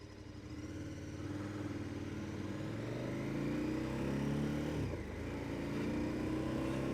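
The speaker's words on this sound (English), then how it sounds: "Now the exhaust does have a reasonable little tone to it when you get a bit of throttle in, like that" A KTM 1290 Adventure S exhaust revs under blips of throttle, the engine note climbing and falling in a couple of rising sweeps with a brief dip near the end, heard close and on its own.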